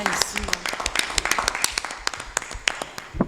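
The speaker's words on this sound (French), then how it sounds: "une bonne main d'applaudissement de tout le monde" An audience applauds at a public gathering with a dense, continuous patter of many hands clapping, fairly close and steady, with voices under the clapping.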